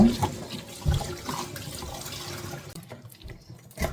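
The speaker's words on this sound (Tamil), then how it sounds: "இதெல்லாம் நல்ல கீரை நாலஞ்சு தண்ணியில் கழுவ வேணும்" Leafy greens being washed by hand in a basin of water, with continuous splashing and sloshing, some sharper splashes and brief quieter gaps.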